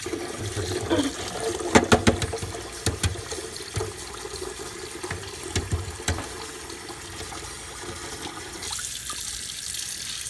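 Cold tap water runs steadily over freshly boiled eggs in a sink, with a few sharp taps and clicks of shells knocking together near the start, and no talking.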